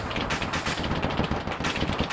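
Gunfire from an enemy tank in Arma 3 during a WW3 battle for Tbilisi, heard as dense, continuous rattling bursts of shots that keep going for the whole stretch, loud and harsh, with no talking.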